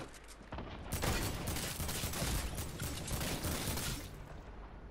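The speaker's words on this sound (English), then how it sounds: "Fire. Open fire, people." Gunfire in a Fortnite match, a dense continuous burst of rapid overlapping shots and clatter lasting several seconds, loud and close, with no talk over it.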